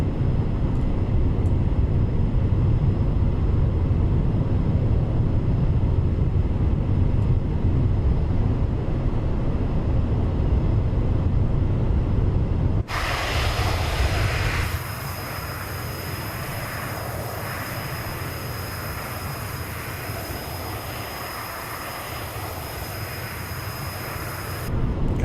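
A T-38 Talon jet in a flight simulator game rolls for takeoff: a loud, steady jet engine roar that shifts into a brighter, high-pitched whine partway through, continuing without speech.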